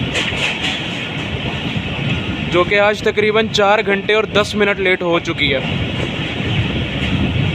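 Millat Express passenger train hauled by a GU40 diesel locomotive, with a loud rumble and clickety-clack of the coaches running close by. Someone talks over the train noise throughout.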